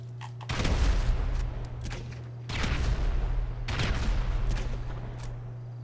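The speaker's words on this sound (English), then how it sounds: "if you shoot like a little grenade launcher, if you shoot it in that hole, it just bounces right out" Grenade launcher fired in GTA 5, with several loud, booming blasts and rumbling explosions spaced a second or two apart over a steady low hum.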